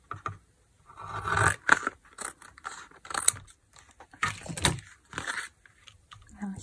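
Scissors cut through a recycled cardboard paper towel roll, making irregular close crunching snips and scrapes with short pauses between cuts.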